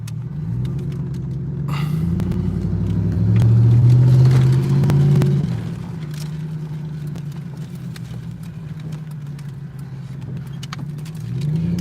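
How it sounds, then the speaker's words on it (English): A truck passes on the road, heard from inside a car with a broken window, a low engine rumble that swells to a peak and then fades back into steady road noise. "it's a truck"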